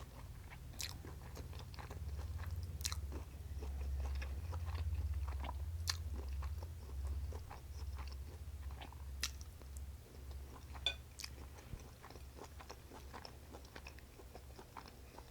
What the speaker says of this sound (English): Let's get a bite of this shrimp.